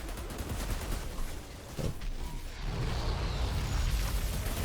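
Rapid, booming shotgun blasts and gunfire in the Outriders video game, loud and continuous, layered with dense combat noise and a brief lull midway.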